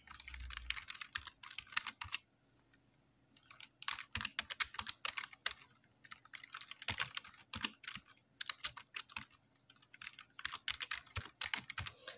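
Keys clatter in quick bursts on a computer keyboard as a user ID is typed, close and crisp, with a short pause partway through and no voices.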